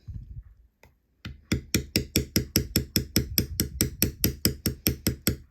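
Metal beveler tapped with a mallet into tooled leather to set back a mushroom stem, a brief tap then a steady run of about fifteen sharp, evenly spaced close knocks.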